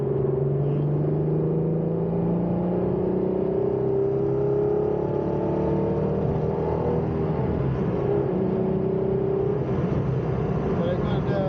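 An Alfa Romeo GTV's upgraded 3.0 V6 engine revs steadily with a raspy note, its pitch rising and falling, with a person talking over the constant drone.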